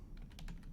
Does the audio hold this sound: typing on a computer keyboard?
yes